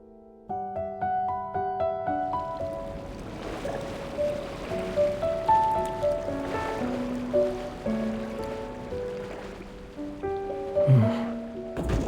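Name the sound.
ocean waves on the shore in Love & Deepspace video game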